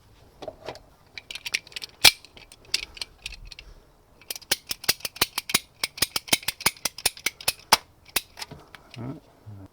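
Rubber heater hose on a 2008-2013 Subaru Forester being cut, heard as a dense run of sharp close snips and clicks, irregular at first then more rhythmic, with some faint talk.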